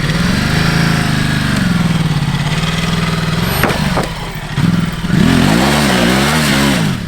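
A heavy 220 kg enduro motorcycle revs off-road, its engine note rising and falling in repeated swells, dipping briefly near the middle before surging loudly again, close and unaccompanied by talk.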